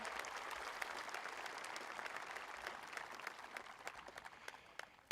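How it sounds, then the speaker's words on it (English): An audience at a high school commencement applauds a school ensemble after the national anthem and a senior farewell song. Steady, moderately distant clapping from a large crowd tapers off gradually toward the end. "One more time with a round of applause for their performance of our national anthem and senior farewell song."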